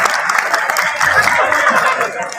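A crowd at a martial arts demonstration claps in a dense, steady patter, with some murmuring and faint laughter mixed in.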